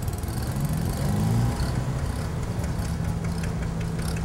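A small gasoline pony engine on a diesel tractor starts and settles into a steady mechanical chug close by, with a faint ratcheting clatter on top.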